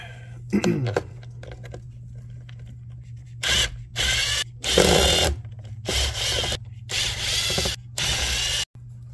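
An old abandoned hedge trimmer is taken apart with a ratcheting power driver, heard as repeated loud bursts of whirring and clicking separated by short pauses, with a low steady hum beneath and a brief voice early on.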